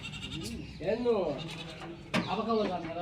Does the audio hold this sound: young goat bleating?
yes